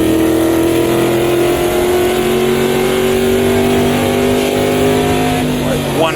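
Race car in the Automobilista 2 racing game at Rouen, engine braking on a downshift: a loud, continuous engine drone with pitch sliding steadily down, then a quick blip of revs near the end.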